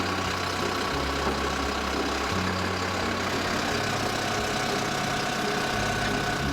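A tractor engine idles nearby in a steady, loud mechanical drone whose low tone shifts in pitch a few times, with no talking over it.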